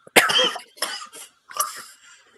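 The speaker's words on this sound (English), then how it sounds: "As that finishes, I just cough." One person coughs three times in a row, hoarse and close, each cough a harsh burst with a short gap after it. No speech is heard.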